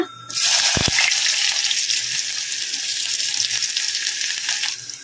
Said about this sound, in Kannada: ಸಾಸಿವೆ ಜೀರಿಗೆ ಚಟಪಟ ಅಂದಿದಾವಲ್ಲ ಈಗ ಇದಕ್ಕೆ ಉಳ್ಳಾಗಡ್ಡಿ ಹಾಕೋಣ